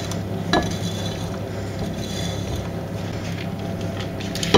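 Chocolate génoise batter being mixed after powders are added, a continuous soft scraping and stirring in a bowl with occasional utensil knocks, moderately close.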